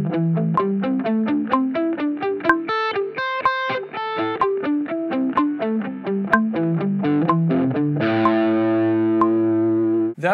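Distorted electric guitar running rapid sixteenth-note pentatonic scale sequences with metronome clicks, evenly picked notes climbing and descending, a brief sustained chord midway, and a ringing chord held at the end, loud and close with no talking.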